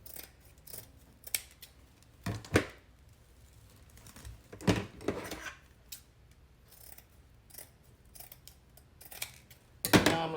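Scissors snipping through quilt fabric for a wreath, giving sharp crisp cuts spaced irregularly with quieter rustling in between, close and fairly soft.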